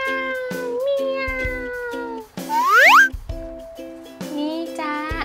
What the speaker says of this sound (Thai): เมียวเมียว เจ้าแมวน้อยอยู่ตรงนี้ก่อนนะจ๊ะ